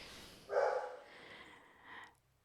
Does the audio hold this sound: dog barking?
yes